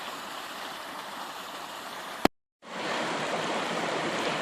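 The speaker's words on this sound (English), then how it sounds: "but right here there's waterfalls." Steady rushing water from a small waterfall on Horton Creek near Payson, Arizona, close and continuous, broken by a brief click and a short silence before resuming.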